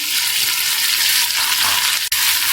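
Mutton being mixed with salt, turmeric, coriander powder, crushed red chilli and garam masala in a pot, a loud continuous hissing sizzle with stirring, close up, broken by one brief dropout near the end; no voices.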